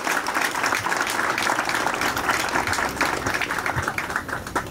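Large crowd applauding steadily for the contestants at the Alanya fishing tournament in 2022, a dense, continuous clatter of many hands close by that holds at a constant level throughout.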